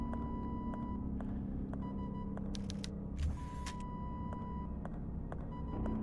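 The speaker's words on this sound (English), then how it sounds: "This is in Morse code." Short electronic tones in the horror game Tormented Souls, repeating as a steady series of clipped beeps over a low rumbling hum, with a brief louder burst of noise partway through.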